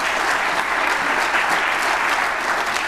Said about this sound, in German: Nochmal einen Applaus bitte für Kasper.